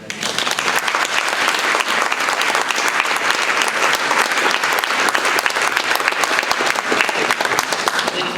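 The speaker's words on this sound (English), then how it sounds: "One more extra round of applause." Loud audience applause after an evening Islamic lecture, a thick continuous wash of many hands clapping throughout, steady and unbroken with no clear speech.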